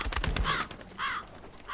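A bird in the video game Mists of Aiden caws loudly and harshly, three close calls in quick succession, with no voice over them.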